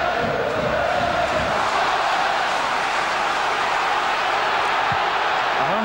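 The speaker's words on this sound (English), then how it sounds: "The home crowd believing their team can rescue something here." A home football crowd at the Valley during a 1998/99 Charlton Athletic versus Aston Villa match, a dense, sustained roar of cheering and shouting from a large stadium audience, loud and unbroken.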